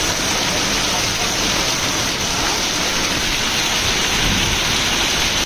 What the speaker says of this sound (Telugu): బీభత్సమైనటువంటి వర్షము